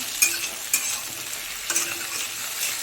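Spices frying with green chilies and ginger paste for a Bengali fish curry, a steady soft sizzle with a few sharp stirring scrapes near the start and middle, close up and with no voices.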